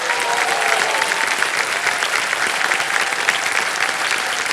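A studio audience on the quiz show Kaun Banega Crorepati claps loudly and steadily for a contestant, a thick uninterrupted wash of applause from many people.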